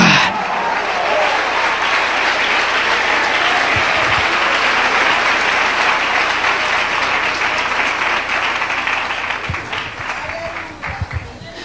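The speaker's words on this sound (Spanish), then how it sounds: "Den un aplauso al Rey" A church congregation gives a long round of applause during a sermon, a full, steady crowd clapping that gradually thins toward the end into scattered individual claps, with some voices mixed in.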